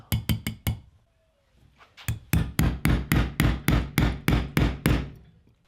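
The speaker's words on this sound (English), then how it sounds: "trying to chisel it out without damaging the bait or anything like that" A hammer taps a chisel to work a super-glued piece out of a Deps 250 swimbait, first with four quick blows, then after a short pause with a long steady run of sharp, close, evenly spaced strikes.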